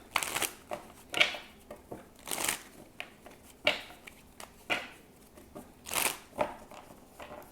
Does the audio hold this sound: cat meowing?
no